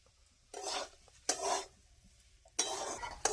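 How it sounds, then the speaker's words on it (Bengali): Boiled potatoes are stirred with spices in a pan, three separate scraping bursts of a utensil against the metal, quiet and close, with a faint sizzle between strokes and no talking. "এবার আলুটা একটুখানি ভাজবো সব কিছু মশলার সাথে"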